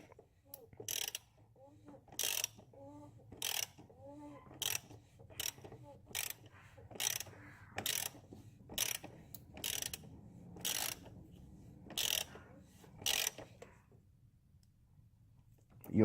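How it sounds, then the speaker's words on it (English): A ratcheting socket wrench clicks in short repeated bursts while tightening the oil drain plug on a Mercedes CLA, each burst a quick run of close, crisp clicks separated by brief pauses. "Then you can take your socket here, start tightening it down."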